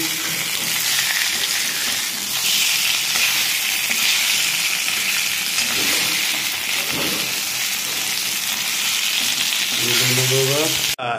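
Food sizzles hard and continuously in a hot pan while cooking taki fish curry, a dense close crackle with occasional stirring scrapes, and a brief tonal sound near the end; no speech.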